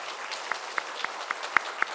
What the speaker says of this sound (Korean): 네, 큰 박수로 함께 축복하겠습니다.